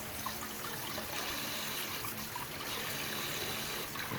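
Milkfish (bangus) being rinsed in water for sinigang, a steady close trickle and slosh of water running continuously without pause, no voices.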